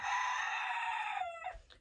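A rooster on a small homestead lets out one long, strained crow that trails off into a short clucking break, moderately close and heard on its own.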